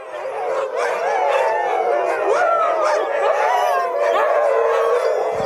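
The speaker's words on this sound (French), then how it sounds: "On va donc rencontrer ces gentils chiens qui font plein de bisous en plus." A pack of dogs at a Camargue manade howls and yips together in a loud, continuous chorus with overlapping wavering calls and a few sharp barks, close by.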